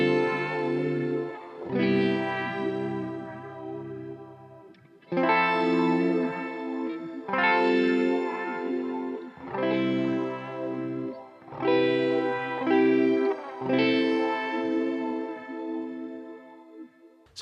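An electric guitar played through the Max Shimmer preset on a $230 multi-effect unit rings out in chorded phrases with shimmering, chorus-laden distortion and lingering echo, each strum swelling and decaying across several bursts, with no voices.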